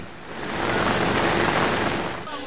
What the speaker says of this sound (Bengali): এক পশলা বৃষ্টি রাজধানীবাসীর স্বস্তি প্রাণ ও প্রকৃতিতে নেমে এসেছে প্রশান্তি